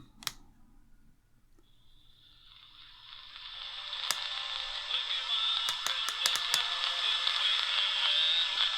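A HanRongDa HRD-104 portable radio tuned to AM 650, hissing static rising out of near quiet and growing steadily louder, broken by sharp clicks and crackles of interference.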